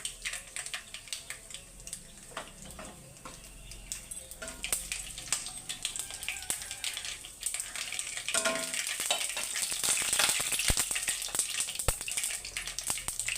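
Mustard seeds fry in about three spoons of hot oil in a pan, a soft continuous sizzle that grows louder with scattered popping and light crackles, close and without speech.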